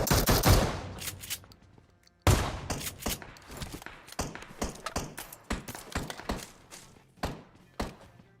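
Shotgun and Kar98 shots ring out in a PUBG Mobile match, two heavy blasts with trailing echoes followed by a string of quicker, lighter gunshots and thuds at irregular intervals.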